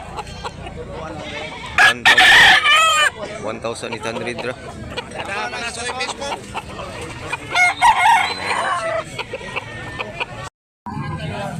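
Several roosters crow loudly and hens cluck amid a busy crowd at a chicken market in Dumanjug, Cebu, with people talking over the poultry noise nearly the whole time.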